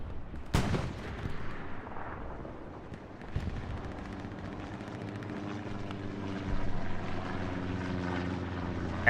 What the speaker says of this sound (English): I don't know what tanks are shooting each other.